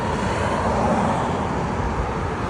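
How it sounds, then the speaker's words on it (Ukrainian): A parked car's air conditioner running on a Kyiv boulevard, a steady broadband whoosh and hum that holds evenly throughout with no speech. "А, це кондиціонер працює, я поняв."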